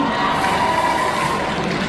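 A festival audience cheers and applauds for a translator on stage, a dense, steady roar of crowd noise with shouts and claps that holds at an even, loud level throughout.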